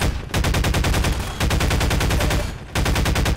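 Rapid automatic gunfire from the video game Half-Life 2, loud and continuous in three long bursts separated by brief pauses, with no talk over it.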